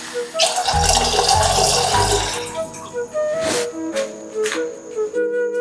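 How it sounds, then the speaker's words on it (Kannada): Water poured into an old pressure cooker makes a loud, steady gush for a couple of seconds, then breaks into lighter splashes and trickles with faint metallic ringing. "ಇವಾಗ ನೀರನ್ನು ಹಾಕ್ತಾ ಇದ್ದೀನಿ ನಾನು."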